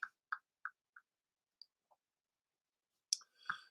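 A computer mouse clicking, with four quick evenly spaced clicks, a couple of faint ticks, then a louder double click near the end, close and clear against silence.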